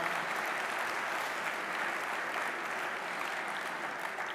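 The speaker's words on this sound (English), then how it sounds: "if we could give a big round of applause for all of our Metro staff that are here in the back" Steady applause from the audience at a zero waste conference welcome session, honoring the Metro staff at the back of the room, holding at an even, moderate level throughout without a break.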